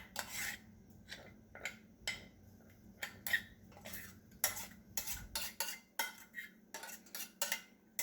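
A spoon scrapes and taps against a pot and plate while creamy cheese grits are served, giving a series of short, irregular clinks and soft scrapes close by in a quiet kitchen.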